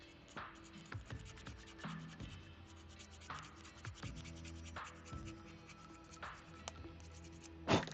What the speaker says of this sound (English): Let's just see if I can scrape any extra bits of paint off